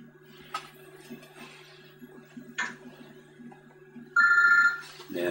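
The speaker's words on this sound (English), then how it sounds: "you can hear her cell phone" A cell phone rings once with a short electronic tone burst, heard faintly over a steady hum, followed by a few soft clicks.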